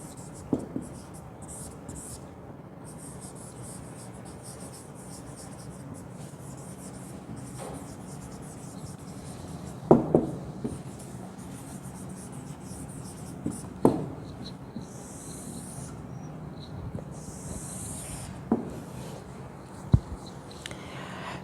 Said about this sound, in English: so the words which I have written on the board